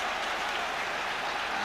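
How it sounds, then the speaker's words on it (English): A football crowd at a Spurs match against Anderlecht, a dense, distant roar of massed voices and clapping rising as a constant wash beneath the commentary. "Crowd are willing Spurs to come forward"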